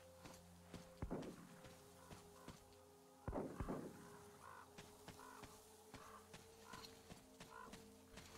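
Two sharp gunshot bangs in the video game Metro Exodus ring out a couple of seconds apart, each trailing a short echo, over faint clicks and soft background ambience.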